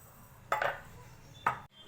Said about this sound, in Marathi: आता आपण हे कापून घेणार आहोत